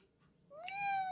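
A cat gives one short, rising meow, close and clear, fading at the end, with faint background noise before it.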